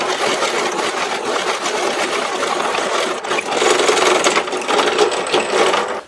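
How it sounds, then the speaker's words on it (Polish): A Parkside PTBM 500 bench drill press bores through a 20 mm steel cube, giving a steady, loud broadband grinding whine with a slight surge partway through and no talking. "przewierciłem stalową kostkę 20 mm w dosłownie kilka chwil"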